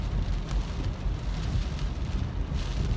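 Heavy rain pounds a car during a drive through flooded roads around Big Bear, making a dense, steady rush of drumming and road noise with no voices.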